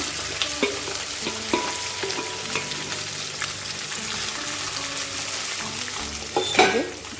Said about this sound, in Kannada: ಈಗ ನಾವು ಕುಡಿದಿಟ್ಕೊಂಡಿರುವ ಬೆಂಡೆಕಾಯಿ ಕೂಡ ಹಾಕ್ಕೊಳ್ಳೋಣ